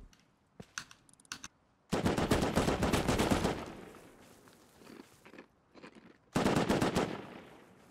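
AK rifle fire in the video game Rust: a few scattered shots, then two long, loud bursts of automatic fire separated by quieter clicks and movement.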